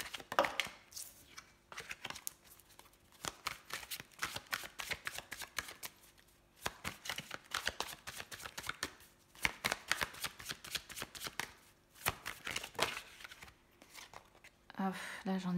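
A deck of tarot cards shuffled by hand at close range, with steady crisp riffling in rapid bursts and brief pauses, while someone speaks quietly over it.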